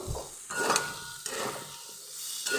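Spiced mixed-vegetable curry sizzles steadily in a pan while a utensil scrapes and stirs it in several strokes, close by, with no talking.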